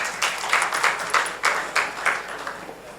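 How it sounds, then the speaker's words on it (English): A conference audience claps to welcome a speaker onto the stage: scattered, moderately close handclaps in quick succession over a few seconds, with no voices. "Can you please welcome him on the stage with a huge round of applause"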